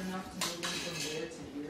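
Dishes and cutlery clatter and clink as they are unloaded, a few sharp rattles and scrapes of plates and silverware over quiet household background.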